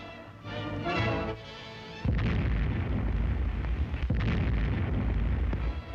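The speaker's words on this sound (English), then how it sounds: "the Nazi trawler is sighted and American guns cut loose" American naval guns of a WW2 Coast Guard force open fire on a Nazi trawler off Shannon Island, a sustained, loud roar of heavy gunfire and blasts that starts after a brief rumble and runs on without speech.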